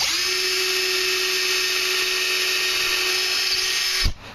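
A power drill whines at a steady high pitch for about four seconds while boring a 1/8 inch pilot hole into wood for a raised garden bed, then abruptly stops and spins down.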